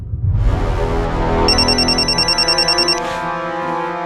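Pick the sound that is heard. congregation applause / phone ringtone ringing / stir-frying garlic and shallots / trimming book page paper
phone ringtone ringing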